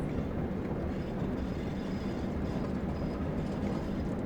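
Train running in the Train Sim World video game, a continuous low rumble of rolling wheels and rail noise at steady volume, with no speech over it.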